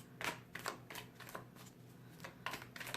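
A deck of tarot cards is shuffled by hand, making quick riffling flutters in several short bursts with a pause in the middle, close and fairly quiet, with no speech.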